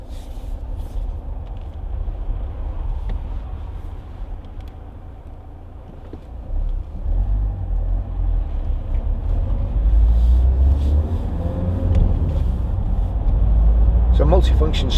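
A 2014 Vauxhall Astra 2.0 CDTi ecoFLEX diesel drives along, its low steady engine and road rumble swelling as it gathers speed, heard from inside the cabin.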